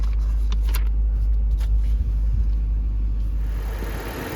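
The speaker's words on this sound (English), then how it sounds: "the 2UR 5-liter V8" Lexus IS 500 with the 2UR 5-liter V8 running, a steady deep engine rumble close by that holds constant throughout, easing slightly near the end, with no one talking.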